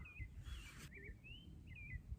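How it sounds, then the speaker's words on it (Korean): Faint bird chirps and short warbling calls sound from a distance on a mountain, Cheongwansan in South Korea, over quiet outdoor background noise, a few scattered phrases. "아 새소리까지 완벽하다"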